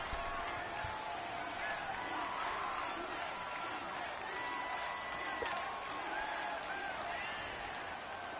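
Steady roar of a home stadium crowd in a football video game, Falcons against Cowboys, a continuous loud wash of cheering and noise with occasional whistles on top, heard alongside talk.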